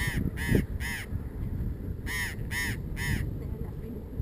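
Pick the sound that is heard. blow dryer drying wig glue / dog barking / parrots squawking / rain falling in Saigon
parrots squawking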